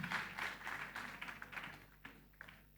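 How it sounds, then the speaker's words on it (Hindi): An audience claps for students at an all-India quiz competition, a soft patter of many hands that is fullest at first, then thins to scattered claps and dies away, heard faintly from a distance. "ऐसी तैयारी के साथ आए हुए सभी विद्यार्थियों के लिए एक बार मैं चाहता हूं आप लोग तालियां बजाएं"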